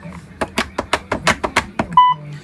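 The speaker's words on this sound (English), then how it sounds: "that high pitch beep signifies that the command was accepted" A Mountbatten Brailler gives a short high-pitched confirmation beep after a save command, preceded by a quick run of crisp mechanical key presses, close and clear.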